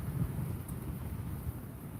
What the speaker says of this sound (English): It's super fucking windy back here.